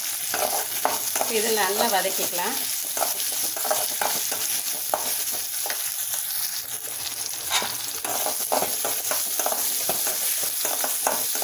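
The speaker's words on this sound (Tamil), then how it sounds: "இன்னும் கொஞ்ச நேரம் வதக்கிக்கலாம்." Curry leaves fry in hot oil in a pan for a raw banana kootu, giving a loud, continuous sizzle broken by stirring scrapes, with a brief spoken remark over it.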